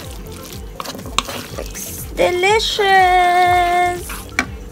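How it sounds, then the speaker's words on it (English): Seafood for pasta sautés and is stirred in a pan, a close sizzle and scraping under a brief word of speech, joined by a loud sustained tonal whine near the middle. "So, just saute them a bit, a little bit of mixing"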